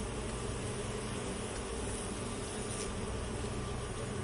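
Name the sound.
bees buzzing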